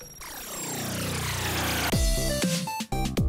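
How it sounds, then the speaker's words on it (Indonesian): A 3 hp water pump engine runs steadily with a strong, droning harmonic whine that holds loud and close throughout, with a few abrupt knocks and rev shifts near the end; no voices. "Alat ini dibuat dengan mesin pompa air berkapasitas 3 pk."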